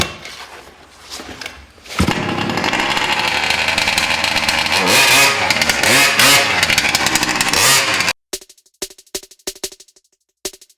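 The 32cc gas engine of a Vekta 5 RC race truck, being run during break-in, fires up and holds a loud, buzzing, revving drone that rises and falls, then stops and sputters in short bursts.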